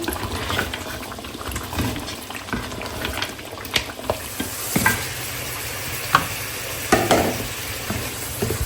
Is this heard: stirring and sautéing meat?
yes